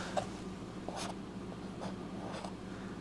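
Marker or pen writing a label on the base of a plastic milk jug, a few short scratchy strokes close up over a steady background hum, no talk.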